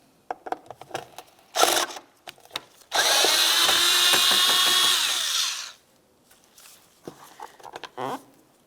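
A power tool, likely a drill, backs out a Phillips head screw from a tray on a 2005-2010 Dodge Dakota during side mirror replacement, a steady whir of about three seconds between scattered handling clicks and knocks.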